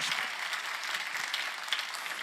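A church congregation claps steadily during a sermon, a dense wash of applause with no voices.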